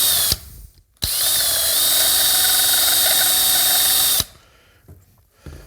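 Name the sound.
grinder grinding metal on Linhai ATV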